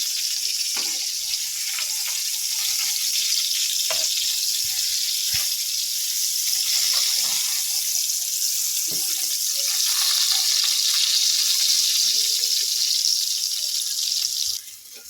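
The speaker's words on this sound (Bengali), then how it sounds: "বেগুনগুলো একবার উল্টো পাল্টা ভেজে নেবো" A bright, steady hiss of eggplant frying in oil, with scattered soft pops and clicks throughout, close and continuous.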